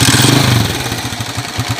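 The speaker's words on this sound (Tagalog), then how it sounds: "narinig nyo yung andar" A noisy motorcycle engine runs steadily up close, with a loud mechanical clatter and a rough rhythmic idle that eases slightly after the first moment.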